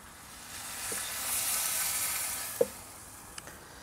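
Beer poured into a hot grill tray of browning onions sets off a soft rising sizzle and hiss, with a couple of sharp clinks near the end, no talking.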